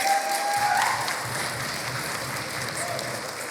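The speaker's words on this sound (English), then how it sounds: "I'd now like to, yes, please, go ahead, clap." An indoor audience applauds after a competition-winning drum group at a launch event, a steady, even wash of many hands clapping throughout, with a brief tonal sound at the start.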